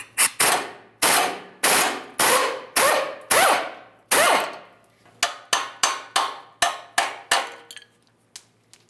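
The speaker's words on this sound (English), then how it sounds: "Use a 14 millimeter socket to remove each of those bolts." An impact wrench drives a 14 mm socket off the exhaust flange bolts of a 2003-2011 Mercury Grand Marquis during catalytic converter replacement: a run of loud, sharp hammering bursts, then quicker, shorter rattling ones, with no talk.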